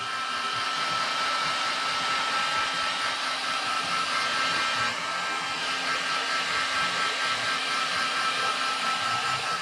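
Steady, close blowing roar of a heat gun warming a creased part during a KTM 380SX dirt bike build, holding an even level for nearly ten seconds with no speech.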